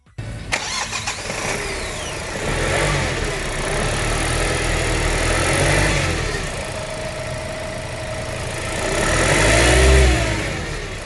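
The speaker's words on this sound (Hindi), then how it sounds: "ये थी इसकी डीजल इंजन साउंड।" A 2021 Kia Seltos HTX diesel engine cranks and fires, then settles into a close, steady idle and swells in a revving surge near the end before easing back.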